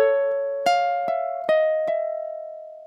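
A ukulele plucks a dissonant chord note by note, four or five distinct string attacks that ring on and slowly fade, close and clear with no talk.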